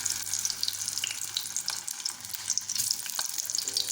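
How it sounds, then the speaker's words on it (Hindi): Shami kebabs fry in hot oil in a pan, giving a bright, steady hiss with scattered pops and crackles, close and continuous, and no voice. "अब हम इनको कुछ देर फ्राई होने देंगे।"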